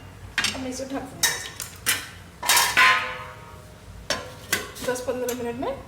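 A lid clatters onto a pan of dahi aloo sabzi on a home stove, a run of sharp metallic clanks and scrapes with ringing tones; someone speaks between them.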